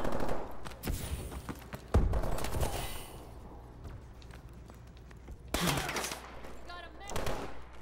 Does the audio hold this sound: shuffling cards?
no